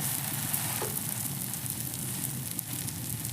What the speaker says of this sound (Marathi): आपण जे सँडविच बनवलेलं होतं ते आपण त्याच्यावर ठेवूया।